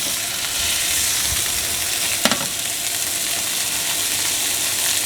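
Steak frying in a pan with butter gives a loud, close, continuous hiss and crackle, broken once by a brief clink of a utensil, with nobody speaking.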